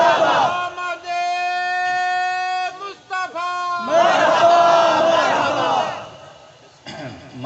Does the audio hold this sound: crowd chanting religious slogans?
yes